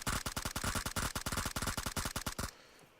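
Rapid automatic gunfire in a duos shooter game, a fast steady stream of loud close shots for about two and a half seconds before cutting off to quiet background.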